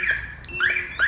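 A Cardot two-way car alarm system sounds its arming signal, a few short electronic chirps with rising tones in quick succession, close and fairly loud, with no talking over them.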